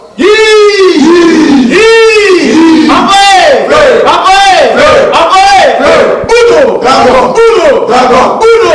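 Karate club members of Budo Dragon in Lubumbashi shout their battle cry "Dragon" in unison, a loud chorus of repeated rhythmic group yells, several bursts in a row, close and strong.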